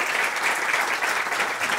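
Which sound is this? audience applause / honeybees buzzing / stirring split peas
audience applause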